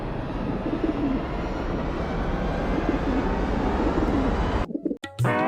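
A cartoon flock of pigeons cooing steadily in a dense, continuous wash of bird sound that cuts off abruptly near the end.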